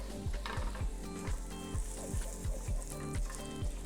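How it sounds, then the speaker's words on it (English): Panko toasting in butter with thyme and sage makes a steady, close sizzle, with a regular pattern of soft stirring scrapes repeating about every half second throughout. "We'll get that into the butter. And we'll add the panko. We're gonna lightly toast that"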